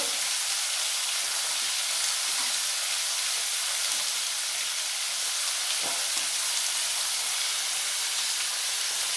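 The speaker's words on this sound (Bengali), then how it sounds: "স্বাদ মতো নুন দিয়ে এই সবজিগুলো খুব ভালো করে ভেজে নেব।" Carrots, flat beans and yardlong beans with turmeric and salt being fried in a pan for vegetarian winter khichuri, giving a steady, close, even sizzle that holds throughout without any voices.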